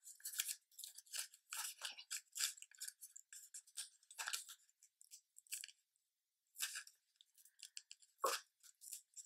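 Scissors snipping through a sticker sheet for a savings tracker, with short crisp cuts and rustling paper handling in close, quiet bursts broken by brief pauses.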